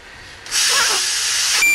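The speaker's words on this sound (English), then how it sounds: "Need you to seal your lips and blow until it beeps." A person blows hard and steadily into a police breathalyzer for about a second, a loud close breathy hiss, ending in a short electronic beep from the device.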